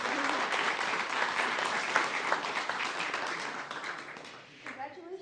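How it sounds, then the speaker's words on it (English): Steady applause fills a hall for a graduating guide dog class, sustained crowd clapping that fades slightly near the end while a voice speaks over it. "Give them a round of applause"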